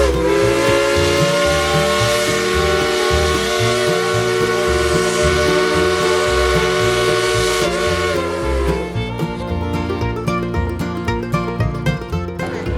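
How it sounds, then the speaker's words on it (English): A working steam locomotive in the Smoky Mountains area sounds its whistle at very close range, a loud, sustained multi-tone blast lasting about eight seconds. Hissing steam and the chuffing, clanking of the engine follow. "the whistle is mighty loud when you're that close"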